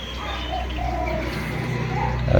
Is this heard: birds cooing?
yes